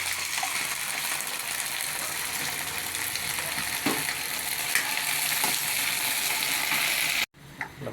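Sardines hitting hot oil with garlic and ginger in a pan, a loud, steady, dense sizzle that runs unbroken for several seconds before cutting off abruptly near the end.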